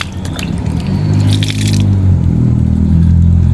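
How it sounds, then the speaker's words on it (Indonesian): Running water washes the roots of an Aglaonema Dewi Hughes house plant during repotting, a steady close splashing and trickling with brief wet squishing and scraping of hands on roots, no talk. "Saya cuci dulu ya teman-teman sebelum saya potong."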